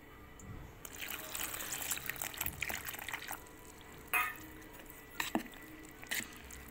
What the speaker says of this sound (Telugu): సో ఇది మనం వాటర్ పోసేసి దోసపిండిలాగా కలిపేసుకుందామండి